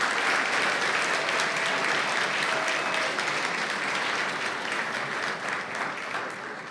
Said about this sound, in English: One more round of applause for all of our winners.